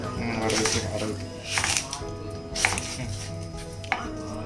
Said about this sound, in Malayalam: വെളുത്തുള്ളി ഒന്ന് നടു മുറിച്ചെടുക്കാം